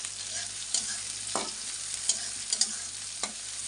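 Onion and green chilli fry in hot oil with a constant sizzle while a spatula stirs and scrapes the pan in several distinct strokes, close up and without speech.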